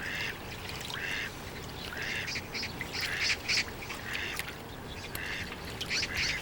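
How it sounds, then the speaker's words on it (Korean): Ducks on the Han River in winter, white-cheeked black ducks feeding on a dead fish, give scattered quacks and squawks over a steady outdoor wash of water and ambient noise, moderately near. "먹이를 찾지 못한 흰뺨 검둥오리가 그 자리에 끼어든다."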